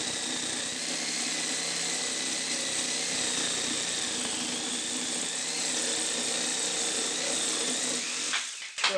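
A Ryobi R18JS-0 cordless jigsaw cuts through an 8 by 8 pine post, giving a continuous loud whine held steady for the whole stretch before it falters and stops at the very end.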